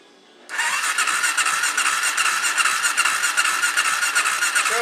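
A 2003 Suzuki LTZ 400 ATV engine cranks and catches after a quiet start, then runs at a loud, steady, high-pitched rev with a squealing edge, close by and without talk.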